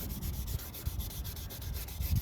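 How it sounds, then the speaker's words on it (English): Steady scratchy rubbing of fine sandpaper on a foggy plastic car headlight lens, close up, with repeated back-and-forth strokes and no talking. "just keep sanding and spraying and rubbing with your fingers to get it all off"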